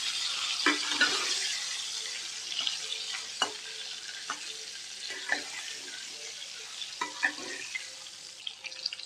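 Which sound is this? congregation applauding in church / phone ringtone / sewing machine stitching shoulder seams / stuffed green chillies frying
stuffed green chillies frying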